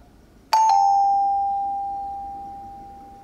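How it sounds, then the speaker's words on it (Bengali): An apartment doorbell sounds in a Bengali suspense audio drama, one sharp electronic chime after a quiet moment that then rings on in a long, slowly fading tone. "তিনি যখন দরজায় কলিং বেল বাজালেন"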